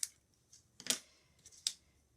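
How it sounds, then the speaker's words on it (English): Scissors cut across card paper for a stamped sympathy card in a few short, crisp snips spaced irregularly, close and fairly quiet. "Just take your scissors and cut straight across."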